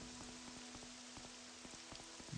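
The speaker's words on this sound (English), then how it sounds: "It's raining. I'm just gonna stop and rest in the rain." In-game rain in Morrowind patters steadily as a faint, soft, even shower of drops, with no voices.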